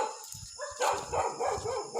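A dog barks at night beside a road, a few short, fairly close barks in quick succession over faint background noise.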